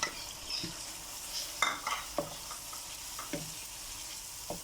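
Chicken karahi pieces frying in a pan as they are stirred, a soft steady sizzle broken by several sharp scraping knocks of the spatula against the metal, close up and without speech.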